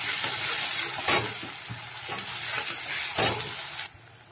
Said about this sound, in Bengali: আদা রসুনটা দিয়ে একটু নেড়ে নিচ্ছি,